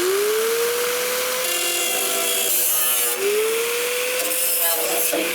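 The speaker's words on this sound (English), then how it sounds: "So I'll take the grinder now," An angle grinder cuts through the rear quarter body metal of a 1965 Thunderbird, its whine rising in pitch and then steadying in two long close passes with a harsh rasping edge.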